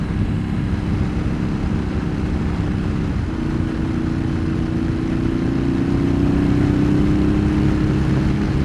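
A motorcycle fitted with a DB killer exhaust drones steadily while being ridden, a loud, continuous engine tone that rises slightly in pitch partway through, with constant wind-like rumble and no speech.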